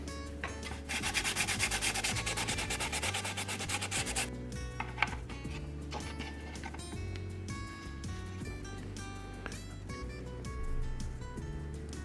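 A wooden stringed instrument body being sanded by hand, steady rasping strokes that repeat in a fast rhythm, close and fairly loud, with no talking.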